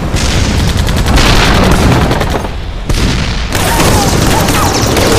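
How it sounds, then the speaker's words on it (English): Heavy, continuous battle gunfire roars loud and dense as Sherman and Japanese Ha-Go tank guns fire at point-blank range, with booming blasts merging into rapid fusillades and brief dips between volleys. "With tanks firing at point-blank range, the Japanese Hago now finds itself hopelessly outgunned by the U.S."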